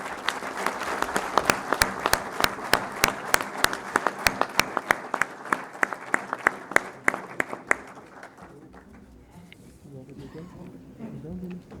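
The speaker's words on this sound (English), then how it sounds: "A big round of applause" Applause at an engineering college club inauguration, a crowd clapping with sharp, distinct hand strikes standing out, steady for several seconds before fading into a quieter room where faint talk continues.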